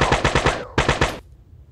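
Rapid bursts of automatic gunfire from a gun in the video game Gorilla Tag 2, two close, loud volleys of quick repeated shots separated by a short gap, then a quiet tail.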